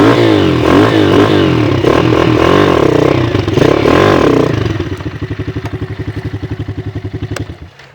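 A children's quad bike drives along with a loud, close engine whine that rises and falls with revving, then settles into a rapid, pulsing putter as it slows.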